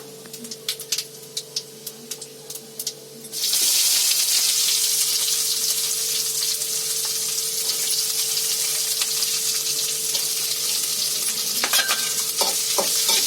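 Onion tipped into hot oil with cumin seeds and curry leaves bursts into a loud, steady sizzle after a few seconds of light crackling, with occasional stirring clinks and no talking.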